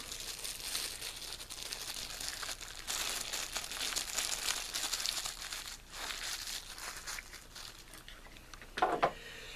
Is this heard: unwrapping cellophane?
yes